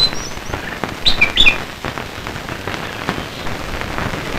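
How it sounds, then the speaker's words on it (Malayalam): A pied cuckoo (jataka bird) calls outdoors, with a few short high chirps standing out over a steady rain-like hiss, moderately distant. "അതാണ് ജാതക പക്ഷി,"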